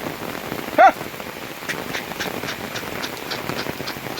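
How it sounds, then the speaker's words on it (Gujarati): Heavy rain pours down steadily, a dense hiss of drops on surfaces, with one brief sharp knock near the start. "ધોધમાર વરસાદ આવે છે અત્યારે"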